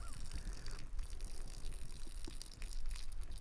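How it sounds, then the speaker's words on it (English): Cowboy coffee made with Cowpuncher coffee is poured out of a cup, a soft liquid gush and trickle that sits low and faint beneath a steady, noisy background. "I hate to mess this up and pour coffee out"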